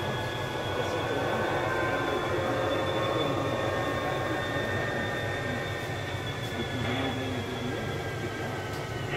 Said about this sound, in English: Now that was a great looking switching railroad.